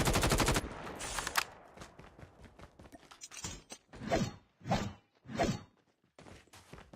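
Turret gunfire in the Terengineer video game, Undead Siege mode: a loud rapid burst of automatic fire opens, then scattered shots and three swelling blasts or whooshes with gaps between them, and no talk.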